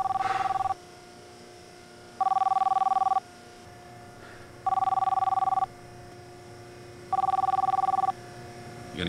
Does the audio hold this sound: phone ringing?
yes